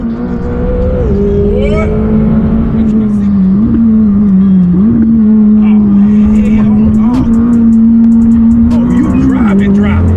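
Car driven fast by an F1 driver, a loud sustained engine drone rising and dipping as it revs, heard from inside the car, with people talking and reacting over it.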